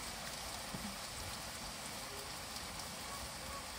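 Steady rain falls in a summer garden, an even, dense hiss of drops on leaves and surfaces, constant and moderately loud with no voices.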